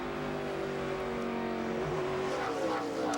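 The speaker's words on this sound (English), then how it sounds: "Race car sounds smooth, Lindsay" A NASCAR stock car accelerates out of a corner at O'Reilly Raceway Park during a 2006 race, its engine note holding steady and then climbing as it pulls away, loud and continuous with no talk.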